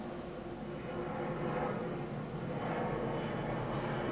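A low-flying airplane passes close overhead, a loud steady engine roar and broad rumble that fills the whole stretch without fading, with no talking.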